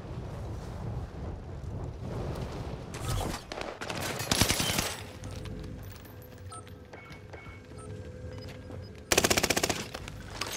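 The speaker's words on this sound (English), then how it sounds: "I'm getting shot in the back." Gunfire in the Call of Duty Modern Warfare video game: scattered shots early, then loud rapid automatic bursts around the middle and a sharp final burst near the end, over wind and background rumble.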